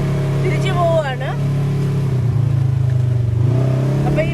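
A UTV engine drones steadily on a trail at Hatfield McCoy Pocahontas while making a U-turn, its low hum swelling and easing, with brief whistling tonal sweeps early on and a pulsing, throbbing note near the end.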